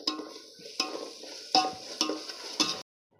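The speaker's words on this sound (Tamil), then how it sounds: "இஞ்சி பூண்டு நல்லா வதங்கிச்சு" About 50 grams of ginger sautés with garlic in a pan for Ambur biryani, giving a faint, steady sizzle broken by five or six scraping stirs before it cuts off.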